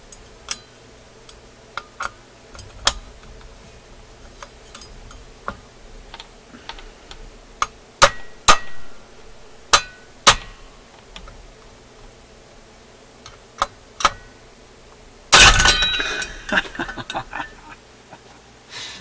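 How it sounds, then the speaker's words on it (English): Light hammer taps on the intermediate wheel of a Garrard Type A automatic turntable: scattered sharp, close ticks over a quiet background, ending in a louder, denser burst of clatter, with no talking. "I'm going to bend it if I whack it too hard, but I can hit it right here"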